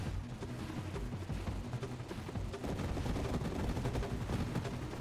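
Strafing-strike gunfire in the video game Chunker 2, a continuous rapid rattle of shots and low booms rolling on without pause, fairly quiet and with no talk over it.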